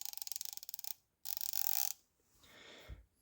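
A brand-new Quinn 1/2-inch drive 90-tooth low-profile sealed-head ratchet back-dragging, giving rapid fine clicking in two bursts with a short pause, then a softer scrape, close and clear.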